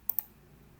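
Two quick, faint keyboard clicks land close together, Ctrl shortcut keystrokes pressed on a computer, followed by near silence.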